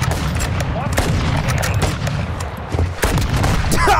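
Rapid video-game gunfire in a free-for-all match, with dense bursts of automatic shots and sharp cracks crowding together near and loud, a voice talking faintly underneath.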